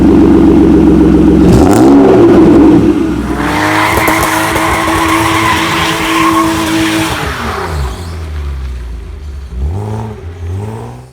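A BMW 525i E34 engine revs hard and close, its pitch climbing and falling through several sweeps, holding a high sustained whine in the middle before dropping away, then two shorter blips at the end.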